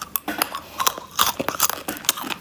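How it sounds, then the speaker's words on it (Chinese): Someone bites into a hard, sour handmade candy that is colored outside and white inside, producing a rapid run of close, loud, sharp crunches that come in irregular bursts. "嘎嘣嘎嘣脆。"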